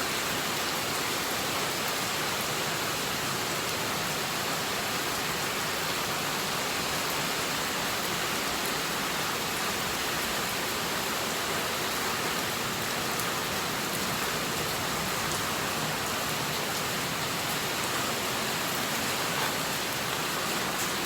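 An afternoon downpour in Bac Lieu, Vietnam, pours down as dense, constant rain hissing on surfaces, loud and unbroken from start to finish with no voices.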